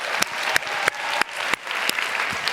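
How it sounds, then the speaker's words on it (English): Audience applause during a live in-conversation stage event, a steady round of clapping from a crowd with sharp individual claps standing out, moderately loud and continuous with no talking. "Round of applause for yourself"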